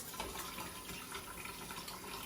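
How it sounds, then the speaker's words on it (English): Water from a Kangen water machine runs steadily through a pipe, producing a soft, even hiss and trickle that carries on unchanged, quiet and alone. "I'll grab some Kangen water from my machine, and so I'll turn the water on"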